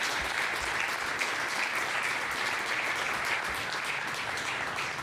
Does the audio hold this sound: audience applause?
yes